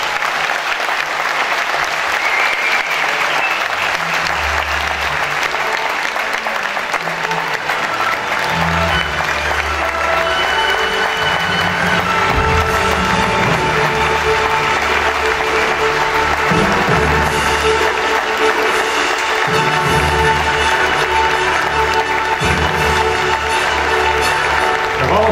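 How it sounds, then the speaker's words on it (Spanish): Long, loud, sustained applause from an evening ceremony crowd honouring outstanding students, with dense clapping holding steady throughout and little voice on top. "este es nuestro más fuerte aplauso esta noche para ellos."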